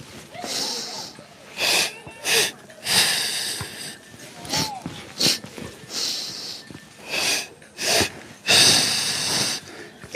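Forceful exhales through the mouth during a mobility breathing exercise for hips and feet, a series of sharp breathy bursts at irregular intervals, close and fairly loud, with some faint voice between.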